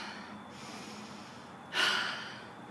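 A single sharp, breathy exhale or snort of someone winded after walking and running, heard close and alone over faint background hiss.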